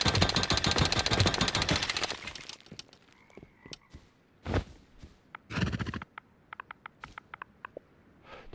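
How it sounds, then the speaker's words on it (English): Horse neighing in the video game Rust, a dense rattling whinny up front that thins into scattered clip-clop and clicking noises, fairly faint and far, with no talking. "so I can't tell where that horse sound came from"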